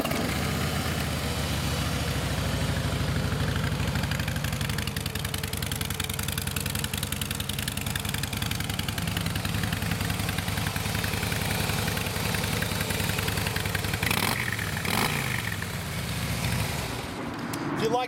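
A Harley-Davidson Softail Deluxe FLSTN motorcycle with 880 miles idles close by, its even, throbbing engine note holding steady for the whole stretch with only a brief wobble near the end.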